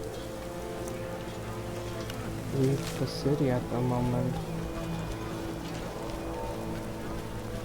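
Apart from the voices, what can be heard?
heavy rain downpour in The Witcher video game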